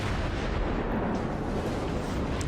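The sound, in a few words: naval gunfire in World of Warships video game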